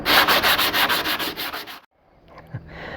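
Hand sanding on a jet ski, rapid rhythmic back-and-forth scrubbing strokes close up for about two seconds, then stopping abruptly, followed by faint small handling noises.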